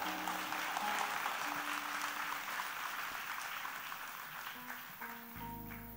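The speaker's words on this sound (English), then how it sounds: "Can we express our admiration with another huge round of applause?" Audience applause after a classical dance at a school show, steady broad clapping heard from a distance, fairly faint and even throughout, with faint tonal sounds underneath.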